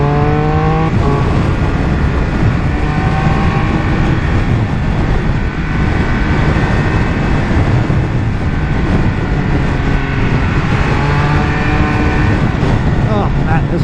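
A Triumph Speed Triple 1200RR motorcycle being ridden on the road, its engine droning loud and close with rising and falling pitch as it revs through gears, under heavy wind rush and a voice talking.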